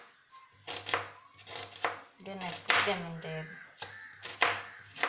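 Knife chopping onions on a cutting board for a tamarind sauce, a run of sharp repeated taps in short bursts, close by, alternating with a person talking.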